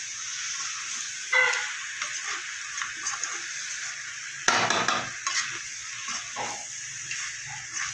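Fried potato and pointed gourd being stirred into spices in a pan, with soft intermittent scraping and a light sizzle, a couple of louder clattering stirs standing out; no voices.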